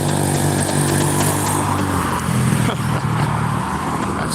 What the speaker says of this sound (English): Here comes a couple scooters.